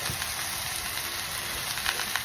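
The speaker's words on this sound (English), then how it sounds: "you still got that sizzle when it hit it" Pot roast meat sears in a hot pan, giving a continuous, even sizzle that hisses close by with no voices.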